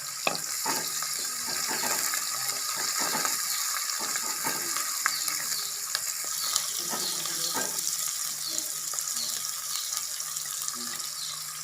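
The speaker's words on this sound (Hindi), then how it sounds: "तो लाइट ब्राउन होने तक हम प्याज़ों को फ्राई कर लें।" Onions frying with cumin and black pepper for mutton keema give a steady close sizzle, with scattered scrapes and clinks from stirring throughout.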